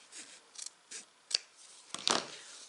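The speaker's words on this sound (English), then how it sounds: "I'm just going to clip this excess off" Scissors snip excess fabric from a zipper in a quiet sewing setting, several short close cuts spaced irregularly, the last a bit louder and doubled.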